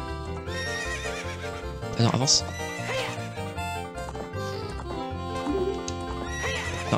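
Epona, the horse in the Nintendo game Zelda: Ocarina of Time, neighs once loudly mid-clip while hoofbeats trot steadily, set over game music with a person talking throughout.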